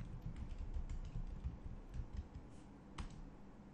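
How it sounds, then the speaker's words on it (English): Rapid, soft clicking of a computer keyboard as a command is typed, with a steady run of light keystrokes and one sharper tap near the end over a low background hum. "So let me type conda list."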